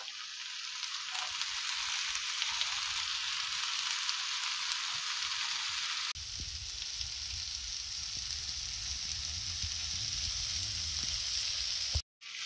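Broccoli and homemade cottage cheese stir fry sizzling steadily in a pan, a loud continuous frying hiss with faint stirring scrapes, briefly cut off near the end.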